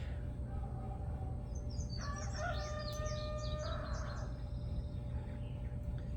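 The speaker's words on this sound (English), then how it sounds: "roosters." A rooster crows once in the middle distance, a faint rising and falling call lasting about two seconds over a constant low rumbling background.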